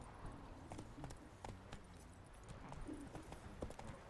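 Hoofbeats of Roach, Geralt's horse in The Witcher 3, galloping in quick irregular clip-clops over a busy game soundscape, with brief voice fragments mixed in.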